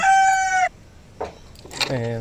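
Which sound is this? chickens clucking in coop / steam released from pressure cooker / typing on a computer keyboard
chickens clucking in coop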